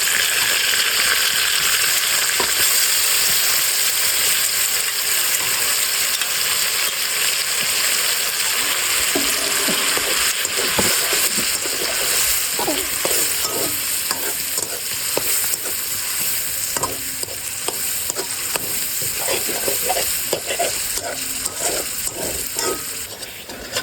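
Taro greens sizzle loudly in a frying pan under a constant hiss, and in the later half a utensil stirs them in a rhythmic run of scraping strokes.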